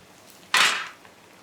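Beef shank drops into a pot of sautéed vegetables for Hungarian goulash, making one loud, short hissing thud that fades within half a second. The pot is otherwise quiet and no one speaks.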